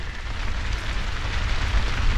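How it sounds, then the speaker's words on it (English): Steady, dense rain pattering close by during a rainstorm while ice camping, a continuous wash of drops with a low rumble underneath and no voices. "That's the rain."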